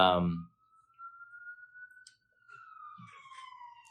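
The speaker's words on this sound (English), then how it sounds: "wait for this ambulance to pass." A single ambulance siren tone sweeps slowly upward and then falls away as it passes at a distance, with faint background noise and a few clicks.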